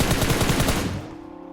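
Rapid automatic MG3 machine gun fire in PUBG Mobile rattles in a dense burst, then cuts off and leaves a fading low hum.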